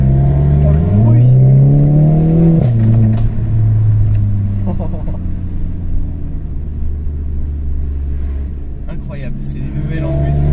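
A Volkswagen Golf GTI engine revs loudly, its pitch climbing and falling through several runs while people talk over it inside the car.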